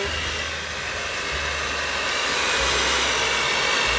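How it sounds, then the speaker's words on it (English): An electric mixer creams butter in a bowl for a Jamaican Christmas fruit cake, giving a steady loud high-pitched motor whir that runs continuously and close, with no talking. "So see, I have this nice mixer"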